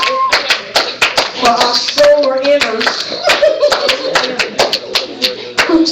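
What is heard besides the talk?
congregation hand clapping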